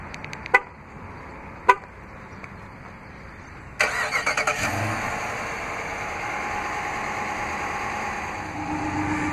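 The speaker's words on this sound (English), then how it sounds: "this vehicle is equipped with a remote start. To operate is easy. Just double press the remote start button on the key fob." A 2016 Dodge Charger R/T started by remote: two short sharp chirps, then a burst of starter cranking as the engine catches and settles into a steady, fairly close idle.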